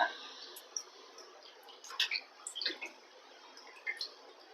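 Vanjaram fish being gently rinsed in water at home, with soft sloshing and a few light drips and splashes, quiet and close, and no talking.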